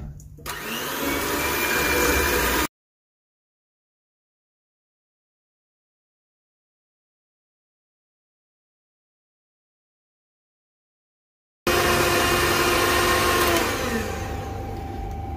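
An electric hand mixer beats eggs with sugar, its loud steady whirring motor running in two bursts separated by a long silent gap.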